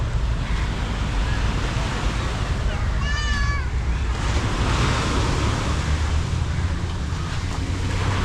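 Surf washing onto the small sandy beach at Miami Beach, Batu Ferringhi, Penang, a steady broad wash of breaking waves with wind rushing over the microphone throughout, and a brief birdlike chirp partway through.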